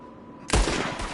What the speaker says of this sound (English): Someone shooting from the window!